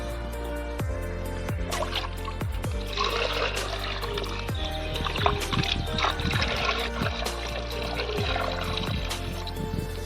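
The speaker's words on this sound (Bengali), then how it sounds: "জলটা খুব সুন্দরভাবে এখানে ফিল হয়ে যাবে" Water poured from a mug into a small garden mini pond, a steady close trickle and splash over about ten seconds, with a few sharp knocks and clicks scattered through it.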